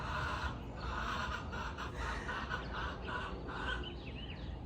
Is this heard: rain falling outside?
no